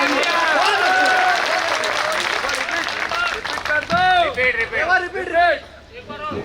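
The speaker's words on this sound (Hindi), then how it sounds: "एक बार जोरदार ताली बजाइए।" Loud crowd applause at a Hindi comedy poetry gathering, dense clapping filling the first few seconds and then thinning into scattered claps mixed with voices and cheering before fading.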